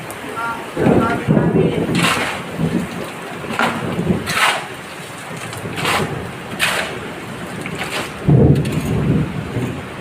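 Steady rain hisses throughout, with a voice talking over it at moderate level.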